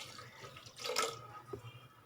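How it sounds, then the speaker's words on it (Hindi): About half a cup of water is poured into mixed urad and chana dal cooking on a low flame, a short splashing pour in the middle of a quiet stretch. "अब इसके बाद तकरीबन आधा कप पानी और से इसमें शामिल करेंगे"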